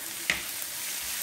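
Onions and green chilies for a squid and green chili stir-fry sizzle in a pan with a steady, even hiss and one brief sharper crackle near the start.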